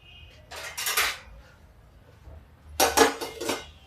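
Two bursts of metallic clattering as a lid is set onto a pot, separated by a short quiet gap.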